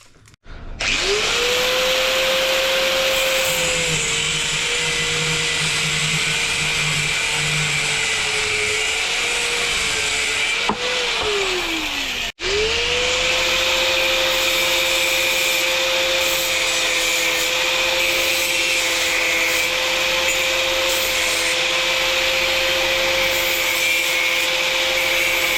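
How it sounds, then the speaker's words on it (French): A 10 mm threaded metal rod being cut with a power tool: a loud, continuous motor whine with grinding hiss, a brief dip and stop midway, then the tool spins up and runs steadily again. "je vais couper une tige filetée de 10"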